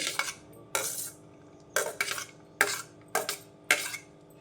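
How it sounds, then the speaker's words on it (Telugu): Peanut chaat with chopped onion is stirred in a bowl with a metal spoon, giving six sharp clinking scrapes in an uneven rhythm with quiet gaps between, close and with no voices. "ఇప్పుడు ఈ పల్లీల్లో ఈ చాట కలుపుకుందామండి"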